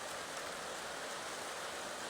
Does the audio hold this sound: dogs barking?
no